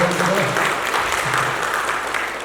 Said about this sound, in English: can we have 2 rounds of applause for them as well?